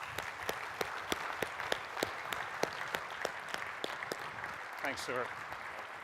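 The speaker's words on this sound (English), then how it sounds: "give everybody a round of applause for their years of contributions to this class" An audience applauds class contributors at a 25th anniversary gathering, steady sustained clapping from a room of people, with a brief voice speaking near the end.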